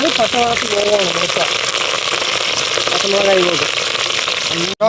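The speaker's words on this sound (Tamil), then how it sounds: "எண்ணெய் நல்லா காஞ்ச பிறகு நாம் இப்போ கடுகு போட்டுக்கலாம்." Mustard seeds and green chillies sizzle and crackle in hot oil in an outdoor pan, a loud continuous frying hiss with a voice talking over it throughout.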